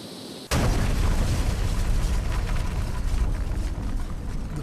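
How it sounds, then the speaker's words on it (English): A sudden loud blast as flammable solvent vapor ignites inside an unventilated ink factory building, followed by a sustained roaring rumble of fire and debris, with no voices. "Flammable vapor filled the unventilated building and exploded."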